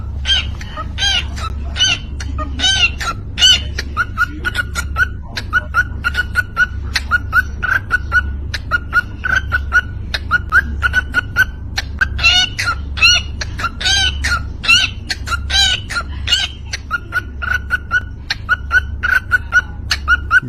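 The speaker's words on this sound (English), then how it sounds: "Have you guys heard of this beatboxing bird?" A bird beatboxes in a steady, rapid stream of clicks, pops and chirps over a held whistling tone, close and continuous throughout, with a low rumbling hum beneath and no talking.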